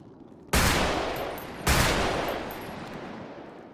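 Two loud gunshots from a roleplay video game, each a sharp crack followed by a long decaying echo, heard alone.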